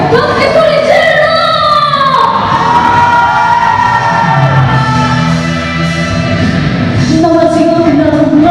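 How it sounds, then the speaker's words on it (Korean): A crowd at a commemorative rally for the Incheon May 3rd democratic uprising and the June 10th democracy movement shouts and cheers loudly and steadily, voices rising in sustained yells and whoops throughout. "함께 소리 질러!"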